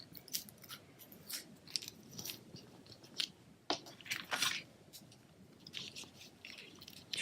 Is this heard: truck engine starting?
no